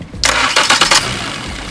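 A car engine cranks over in a few quick bursts, catches after a spark plug repair and settles into a steady, fairly loud idle close by.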